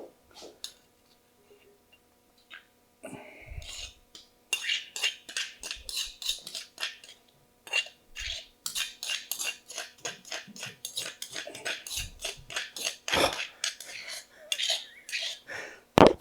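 Utensils clink and scrape against a bowl while green papaya salad is tossed and mixed, a steady run of close clattering taps with brief pauses.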